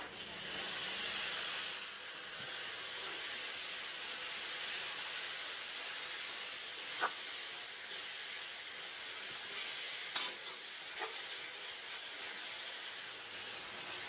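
Onions and tomatoes fry in a pan for goat head fry, giving a soft, steady sizzling hiss with a few faint clinks, fairly quiet and without talk.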